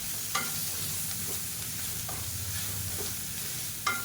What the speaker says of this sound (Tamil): ஒரு அரை கப் அளவுக்கு திருவண தேங்காய் சேர்த்துக்கலாம் சேர்த்துட்டு லேசாக வதக்கி விட்டுக்கலாம்